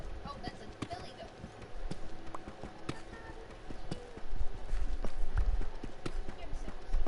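A billy goat moving in Minecraft gives light hoof-like clopping and tapping steps, with scattered thuds over steady game ambience while a voice talks.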